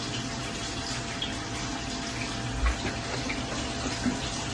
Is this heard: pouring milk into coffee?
yes